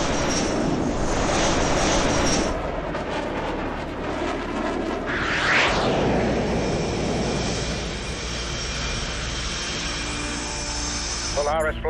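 Fighter jet engine roar in Tom Clancy's HAWX 2, a loud continuous whine and rumble that swells as the aircraft passes, with radio-style voices talking over it.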